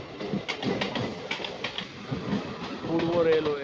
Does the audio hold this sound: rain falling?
no